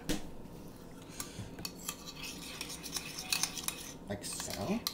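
A utensil stirs an added ingredient in a cooking pot, giving soft scrapes and light metallic clinks that come and go over a faint, steady background.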